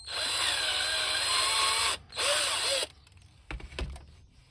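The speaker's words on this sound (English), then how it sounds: "I definitely need to drill this one a little bit more" A small power drill whines loudly in two bursts into a plastic action figure with a brief pause between, then stops, followed by a few soft knocks and handling sounds.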